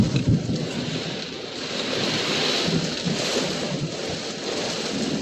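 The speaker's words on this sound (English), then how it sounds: "All the traffic is stopped due to the rain, and I don't blame them." Heavy rainstorm lashing down during a boat trip to Bimini, a dense, steady roar of rain and wind with broadband hiss, continuous and close, with no talking.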